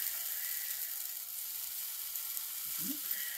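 Takoyaki batter with bits of octopus cooking in a takoyaki pan, producing a steady bright sizzle and hiss throughout, with a faint low knock near the end.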